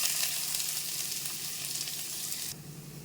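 Chopped onions and green chilies sizzle steadily in hot oil, a loud continuous close-up frying hiss that drops away sharply near the end.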